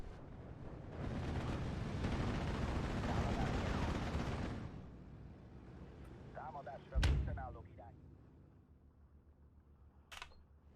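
Gunfire and artillery in the World War II strategy game Steel Division 2: a dense, rumbling barrage for about four seconds, then a single heavy blast with a sharp crack and a smaller distant report near the end.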